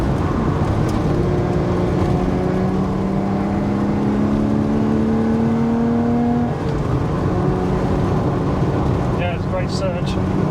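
A 2016 Lotus Exige Sport 350 with a V6 engine accelerates, heard from inside the car as a steady rising engine drone that climbs in pitch and then drops, with road and wind noise throughout.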